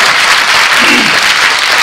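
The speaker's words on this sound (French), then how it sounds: "Encore un applaudissement pour Romain Ferrari." A conference audience at a corporate annual convention gives Romain Ferrari a loud, continuous round of applause, many hands clapping densely and close throughout with no speech over it.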